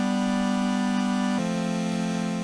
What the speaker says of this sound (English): we're going to stack a whole bunch of sawtooth waves on top of one another